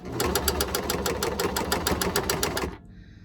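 A sewing machine stitches a cloth face mask in a fast, even run of needle strokes for almost three seconds, close and loud, then stops abruptly.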